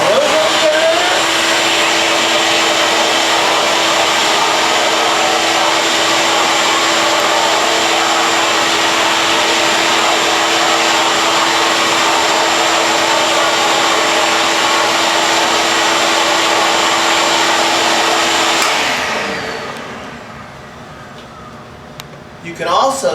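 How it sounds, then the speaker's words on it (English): A Rugged Pro O3 ozone generator running, a loud steady whirring fan drone with a constant tonal hum that holds for about twenty seconds before spinning down and stopping. "Put on your ozone generator."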